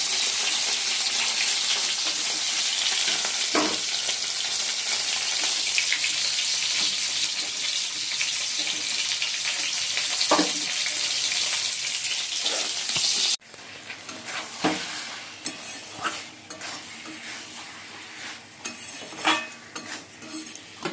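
Chicken curry being stir-fried in a pan, a steady broad sizzle with scraping stirs and occasional utensil knocks; the frying drops quieter partway, leaving sparser clatter and sizzle.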